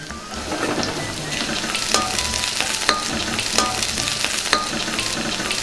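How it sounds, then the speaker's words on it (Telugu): Chopped onions with green chilies and two dried red chilies frying in a pan, giving a dense, loud, continuous sizzle with occasional louder crackles and stirring scrapes. "ఉల్లిపాయలు వేగాయండి"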